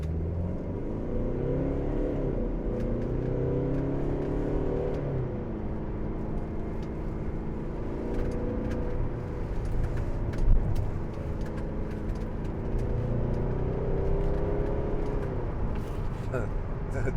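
A 2012 Mercedes-Benz SLK250 CDI diesel, shifted down into first gear in manual mode, accelerates with a rising and falling engine drone heard from inside the car. The sound is moderate and continuous, with a few soft clicks.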